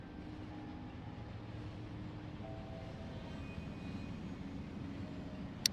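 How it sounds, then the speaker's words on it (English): A train moving in the video game Factorio gives a faint, steady low rumble with light tonal hums drifting over it and a single sharp click near the end, with no voices. "I can make this train go all the way around to the other place too"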